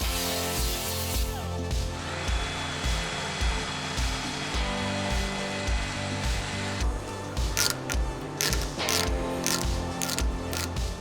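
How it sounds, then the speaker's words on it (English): A bench wire wheel scrubs light corrosion off old motorcycle parts, giving a loud, steady, whining grind with brief surges near the end. "I'm gonna take these to the wire wheel."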